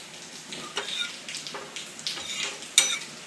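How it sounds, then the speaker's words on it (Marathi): Masala and grated coconut dry-roasting in a pan for a Vidarbha black-gravy soybean vadi curry: a light crackle with a spoon scraping and stirring in irregular strokes and one sharp metallic clink near the end, close and without speech. "मसाला चांगला लालसर भाजायचा आहे"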